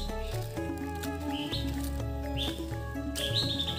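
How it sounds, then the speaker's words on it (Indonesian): Several birds chirp in a forest near a ravine in rural Trenggalek, short bright calls repeating at uneven intervals from a moderate distance over a low humming background. "ada suara burung."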